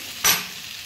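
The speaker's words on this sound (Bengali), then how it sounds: "আমার পটল আলুটা হয়ে গেছে, ভাজা ভাজা হয়ে গেছে।" Pieces of pointed gourd (potol) and potato frying in a pan for a rohu fish curry give one short, sharp burst of sizzling hiss that fades quickly into a low, quiet background.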